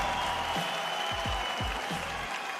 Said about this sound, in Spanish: fuerte aplauso para este titán del freestyle chileno